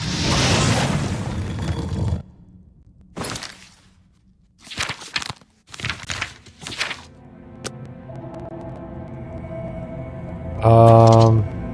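A fire spell explodes in The Elder Scrolls IV: Oblivion: a loud, roaring burst lasting about two seconds, followed by several shorter, sharper thuds and impacts and then a low humming tail.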